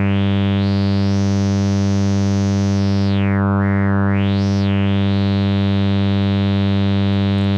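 A loud, steady modular synthesizer drone, an oscillator running through a filter and VCA into a reverb, with a rich buzzing tone, its brightness sweeping up and down as the filter opens and closes.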